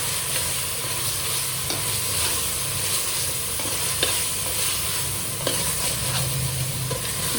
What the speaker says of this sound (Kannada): ಇದನ್ನು ಈ ಥರ ಹಸಿ ವಾಸನೆ ಹೋಗೋವರೆಗೂ ಹುರ್ಕೊಬೇಕು.